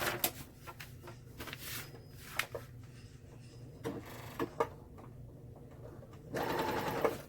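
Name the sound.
sewing machine stitching a dress seam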